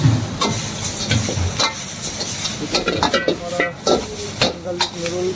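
Noodles fry with burnt garlic in a pan, a steady close sizzle broken by repeated scraping and clattering stirs of a utensil against the metal.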